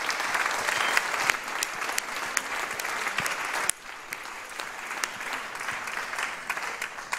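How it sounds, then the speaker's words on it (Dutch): Guests at a café discussion event applaud, a sustained crowd of clapping hands at steady strength, briefly dipping midway then continuing, with a few sharper individual claps standing out and faint voices beneath. "Mag ik een applaus van mijn gasten?"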